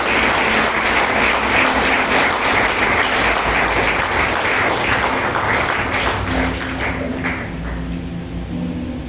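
A church congregation claps loudly and steadily throughout, a dense continuous wash of many hands that tapers slightly near the end.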